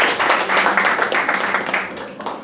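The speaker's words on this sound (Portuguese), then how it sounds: "Dá um aplauso para o Senhor" Church congregation clapping after a call to applaud the Lord, a dense steady patter of many hands sustained throughout, fairly loud, with voices faintly mixed in.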